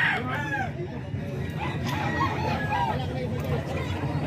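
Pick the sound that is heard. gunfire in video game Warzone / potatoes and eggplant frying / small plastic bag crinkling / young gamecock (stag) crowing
young gamecock (stag) crowing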